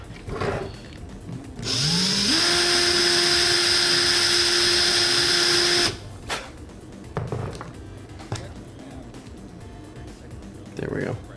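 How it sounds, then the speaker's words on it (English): A handheld power drill used to clean up parts while building a foam dart blaster spins up with a rising whine, holds a steady high-pitched run for about four seconds, then cuts off, framed by quieter handling clatter and knocks. "Clean it up with a drill."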